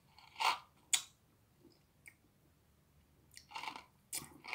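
Crunchy red cinnamon candy chewed close to the mouth, a few sharp crisp crunches with quiet gaps between them.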